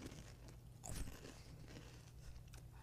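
Someone bites into a crunchy brownie-flavored cookie snack, giving a brief crisp crunch followed by faint chewing close to the mic against a low background hum.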